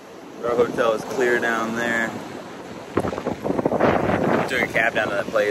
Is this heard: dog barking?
no